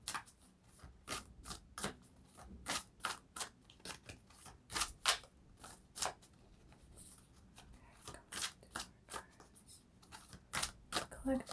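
Tarot cards being handled and shuffled, with soft repeated riffling bursts and papery slides coming in quick irregular clusters close by, fairly quiet.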